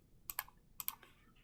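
Quiet computer keyboard typing: a few crisp key clicks in two quick pairs, followed by a softer tap, close and isolated in an otherwise silent room.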